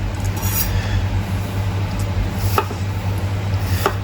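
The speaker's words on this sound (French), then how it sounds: "vous tranchez votre oignon comme ceci régulièrement" A sharp knife slicing an onion for a rustic salad in a home kitchen, a few light, crisp cuts spaced irregularly over a steady low hum, close up.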